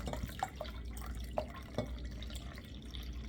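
Apple cider vinegar drips and splashes into a container in a few distinct plops over a steady low background, quiet and close.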